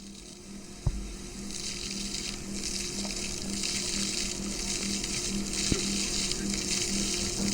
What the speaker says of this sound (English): bursts of water from the Princess Margaret Fountain became a commonplace for family photos and cooling off the late summer heat